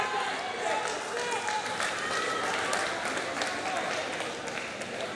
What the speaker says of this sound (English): The crowd is going insane behind me.